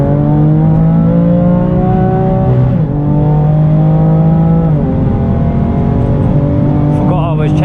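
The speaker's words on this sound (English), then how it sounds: "Go full throttle now." A BMW F80 M3 with a hybrid turbo accelerates at full throttle, and its loud engine note rises steadily and drops sharply at two quick gear changes before climbing again, heard from inside the car.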